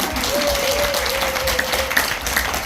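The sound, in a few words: audience applause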